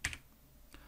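A couple of quick keyboard presses, Ctrl then the plus key, as two close soft clicks at the start followed by one more faint tap near the end in a quiet room.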